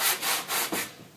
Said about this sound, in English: whenever I'm sanding this, you want to be sure not just sand in one direction